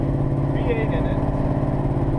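A General Lee car with a V8 engine runs at a steady, loud, throbbing idle close by, with a rough pulsing rumble that never lets up.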